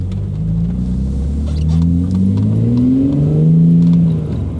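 An Audi RS4 engine rumbles close by and revs up and down in low rising and falling sweeps, deep and throaty, with no talking.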